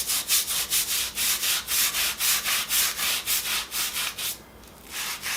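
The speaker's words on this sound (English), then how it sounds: "just going to scrub it a bit" A stiff brush scrubs grout clean in quick back-and-forth strokes, about four per second, loud and close with a short pause near the end, no talking.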